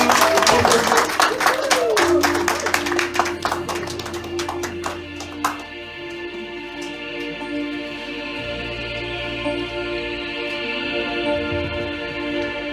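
Church congregation bursting into loud, dense clapping and cheering that gradually thins to scattered claps and fades under a sustained organ-like tone and background murmur.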